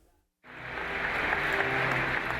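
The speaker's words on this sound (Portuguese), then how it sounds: "o Papa Francisco foi aplaudido de pé por jornalistas e funcionários do Vaticano" Journalists and Vatican staff give Pope Francis a standing ovation: dense, sustained applause starts abruptly after a brief silence and holds at a steady, full level.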